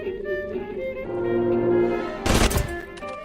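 A turret in the video game BioShock fires one short, loud, percussive burst over steady game music and a low hum.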